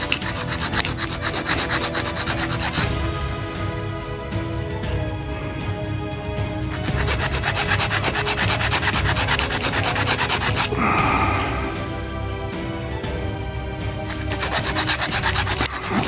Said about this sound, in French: Ça se lime assez bien.